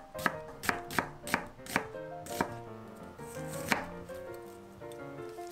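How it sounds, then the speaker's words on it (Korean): A whole onion sliced with a knife on a cutting board for a Korean home-cooked side dish, giving about eight sharp, evenly spaced chops close up, then slower, softer cuts trailing off. "양파 1개 썰어주세요."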